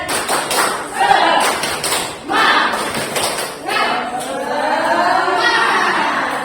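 A group of teachers at a school training session does a rhythmic chanted clapping cheer, bursts of claps in patterned groups alternating with voices calling out together, fairly close and lively.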